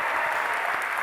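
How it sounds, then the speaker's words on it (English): Steady, dense applause from an audience at a college speaking event, loud and even throughout, with no pauses and no other sound standing out. "Give them a round of applause for that."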